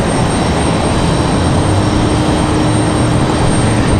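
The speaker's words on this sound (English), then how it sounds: "Southwest 1901 coming in from Atlanta, Georgia, 737 MAX 8. Going to be our next arrival here." Southwest Boeing 737 MAX 8 arriving at Raleigh-Durham airport, a loud, steady broadband jet roar with a faint high whine, continuous and close, with no voices.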